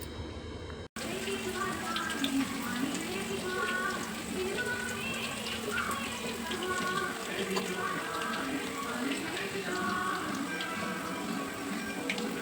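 Pakoras deep-frying in a kadhai of hot oil over high flame, giving a steady, dense crackling sizzle that runs throughout at moderate loudness, with faint speech-like sounds in the background.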